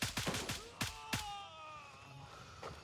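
Rapid burst of gunfire in the shooter Gray Zone Warfare, several close sharp shots in quick succession followed by a fading echoing tail, with no talking over it.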